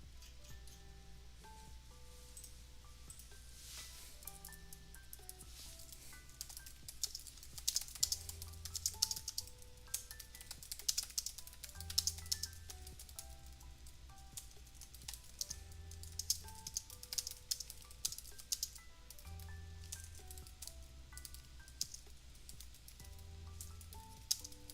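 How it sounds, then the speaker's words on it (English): Rapid, uneven typing on a computer keyboard, with close, light key clicks in bursts over a quiet background hum and no voices. "I know it seems like I'm just typing nonsensically here"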